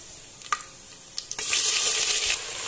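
Sharp clatter, then a loud, steady hiss of frying as a kilogram of onions hits hot oil and keeps sizzling.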